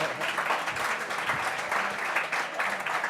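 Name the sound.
audience applause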